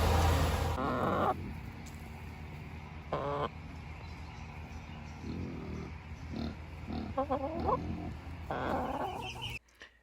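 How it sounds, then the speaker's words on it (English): Broiler meat chickens cluck and squawk in bursts at varying distances, with quieter stretches of low background noise between calls. "These are meat chickens. They're called broilers."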